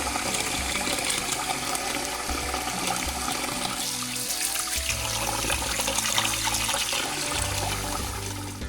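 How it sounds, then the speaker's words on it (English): Jumbo shrimp rinsed under a running kitchen tap, a steady close splashing rush of water with shifting gurgles as the stream hits the shrimp and sink, continuous throughout with no talking. "now we're going to give it a final rinse"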